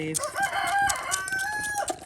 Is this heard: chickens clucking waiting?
yes